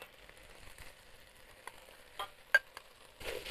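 Rice with tomato sauce is stirred and fried in a pan, a soft continuous sizzle broken by occasional scraping and clinks of a utensil against the pan, close and moderately quiet.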